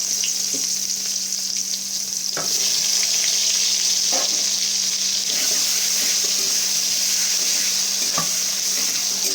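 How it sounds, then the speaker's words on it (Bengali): Chopped onion fries in oil left over from frying potatoes, a loud, steady sizzle broken by occasional clinks and scrapes of stirring, with no voices. "এরপর এই তেলটায় আমি পেঁয়াজ কুচি অ্যাড করবো।"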